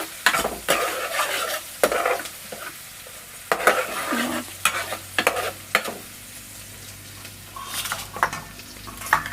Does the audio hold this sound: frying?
yes